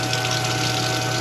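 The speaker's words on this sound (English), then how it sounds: "I gotta let the water heat up. There it comes." Water runs steadily from a tap on a restaurant cook's line while it heats up, a constant close rushing gush with a faint pump-like hum underneath.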